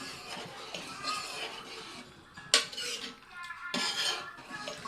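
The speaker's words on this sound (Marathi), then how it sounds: "चांगलं मिक्स करूया." Chicken curry gravy being stirred in a pot, with a steady scraping and clinking of a utensil against metal and two sharper knocks partway through, close and fairly quiet.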